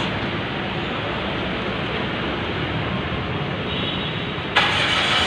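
A car engine idles with a steady broadband rumble that stays close and even. Near the end, the sound brightens abruptly.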